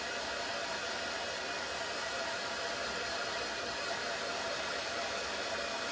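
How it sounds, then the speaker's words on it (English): A hair dryer blows continuously over a freshly painted transfer, a loud, steady, even rush of air and motor whine that holds unchanged from start to finish. "we're going to give this a good dry before we do anything else."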